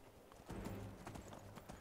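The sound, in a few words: horse galloping in a video game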